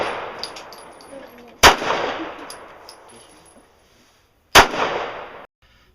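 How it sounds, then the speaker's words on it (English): A Glock pistol fires Brass Max ammunition at a range: two sharp, loud, isolated shots about three seconds apart, each followed by a ringing echo tail, with faint background noise between them. "Okay, guys. Shooting Brass Max. And this Glock is mint clean"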